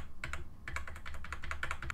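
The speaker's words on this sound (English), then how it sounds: "I'm going to reduce the size of it by pressing the left bracket key on my keyboard" Keys tap on a computer keyboard during photo editing in Photoshop Elements, close and fairly quiet, with a short pair of clicks followed by a quicker run of repeated presses.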